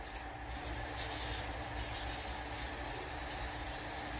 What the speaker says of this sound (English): we're going to spray them first with cooking spray